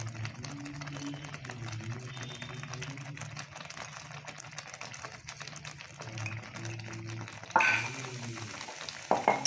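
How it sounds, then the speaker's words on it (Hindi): Spinach and paneer sizzle steadily in a pan while a spoon stirs through them, giving soft scraping and bubbling that holds close and even, louder clatter near the end; no talk. "इसको थोड़ा चला दे रही हूँ मैं"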